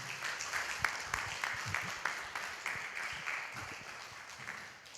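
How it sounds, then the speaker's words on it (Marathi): Congregation at a worship service breaks into applause, a loud, dense run of many hands clapping in a rough shared rhythm that gradually thins and fades over several seconds. "एक जोरदार सेवक टाळी वाजवून धन्यवाद देऊया."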